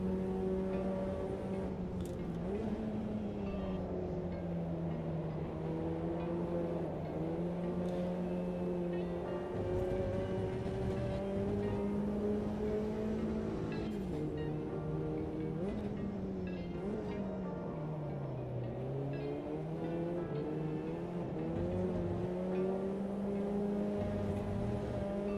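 A sim racing car engine at high revs, holding a continuous buzzing drone with small dips and rises and repeated stutters near the rev limiter, loud and constant throughout.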